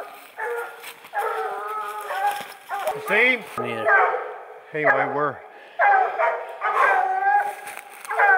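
Coon hunting dogs bark and squall at a raccoon up a tree, their bursts coming close and repeated, with people talking between them.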